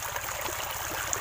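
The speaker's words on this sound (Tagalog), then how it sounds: "may nadaanan kaming tubig dito" Running water from a small stream passed on a countryside outing, a steady broadband rush and trickle held at an even level throughout, with no voices.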